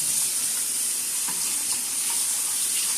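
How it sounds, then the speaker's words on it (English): Tap water runs steadily into a sink while dishes are washed up during home baking of a vegan carrot cake, a constant close hiss with faint clinks under it. "now I'm going to wash this up really quick"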